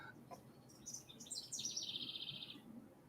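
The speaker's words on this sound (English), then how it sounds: "I have a bird outside my window." A bird chirps outside a window: a few faint, short chirps lead into a bright, rapid trill that lasts about a second, heard alone in a quiet room.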